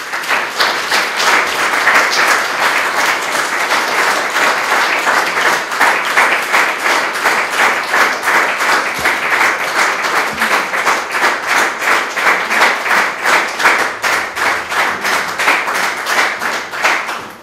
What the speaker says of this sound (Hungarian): Én azt hiszem, hogy ez a nagy taps mindent elárul, Jutka.